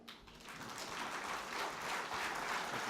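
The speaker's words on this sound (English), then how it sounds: "Now please wake up and clap." An audience claps after a talk on innovation in leadership, a soft, continuous wash of applause that swells slightly and holds steady, heard somewhat distant and faint.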